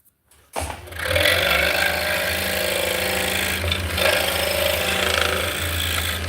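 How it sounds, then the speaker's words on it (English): A power mortiser or similar machine cuts a rectangular mortise hole in wood in a workshop, starting with a sudden loud mechanical roar that holds steady and dense with rattling vibration for several seconds, close and alone without talk. "So basically we're cutting a rectangular hole in here."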